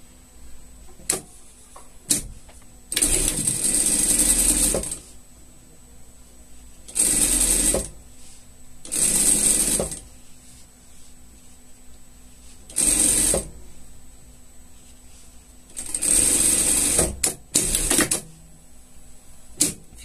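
Sewing machine stitching the hood of a pet poncho, running in short bursts of a couple of seconds each, separated by quiet pauses with faint clicks and fabric handling.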